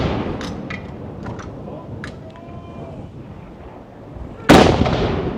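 A ceremonial cannon fires a salute round, one sudden loud boom that rings out and decays slowly over steady outdoor background noise, after a few faint distant pops and light crowd murmur.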